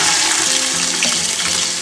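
Ginger hits hot oil for a Kerala beef pickle, giving a loud, dense, continuous sizzle and crackle up close with faint stirring, no voices over it.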